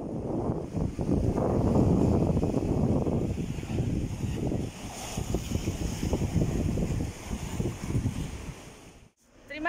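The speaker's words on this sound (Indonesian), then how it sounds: "Ombaknya kenceng banget" Strong ocean waves at Shek O beach, Hong Kong, roar as a continuous loud wash of surf mixed with gusting wind noise, the churning steady throughout before a brief dip near the end.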